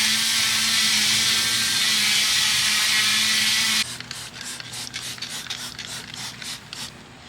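Brush and soap scrubbing a wheel on a 2007 Subaru STI: a loud, steady spray-like rush gives way to a rapid run of close, rhythmic scrubbing strokes.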